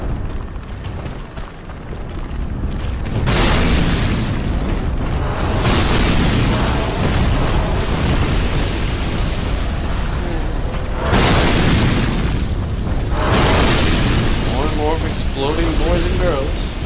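Loud game explosions from Dark Souls 2 burst in several bursts, with broad booming blasts around three, eleven and thirteen seconds over continuous rumbling game sound, while someone talks over much of it.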